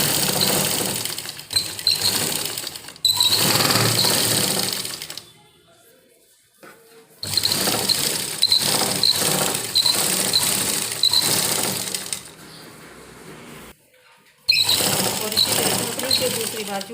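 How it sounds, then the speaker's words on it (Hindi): Sewing machine running in fast bursts while hemming the sleeve of a nighty, with steady rapid needle chatter, brief pauses between runs and a quiet voice between them. "और एक सिंपल सिलाई हम इसके ऊपर लगा देंगे दोनों बाजू के ऊपर।"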